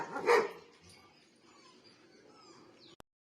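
A German shepherd puppy lets out one sharp, loud bark close by, followed by quieter background noise and faint yips, with no talking.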